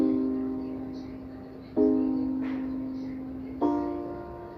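Software synth chords voiced an octave lower play alone, three sustained chords each struck sharply and left to ring and slowly fade, with a quiet even tone and nothing else.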